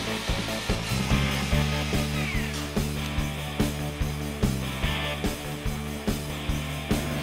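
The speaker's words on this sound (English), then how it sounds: "Now I marked and drilled holes for brass studs that'll hold the handles together." A power drill bores holes for brass studs in a prop sword handle, its motor whirring in a steady series of short, repeated bursts up close, each pulse rising and easing in a regular rhythm.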